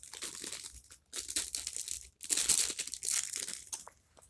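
A little plastic bag crinkles close up while an order is packed, producing bursts of bright, rustling crackle with brief pauses between handlings.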